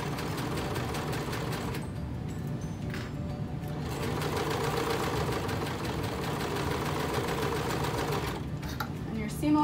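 A sewing machine sewing scrundies runs continuously and close, a steady mechanical whir with slight changes in pace, while people talk quietly over it.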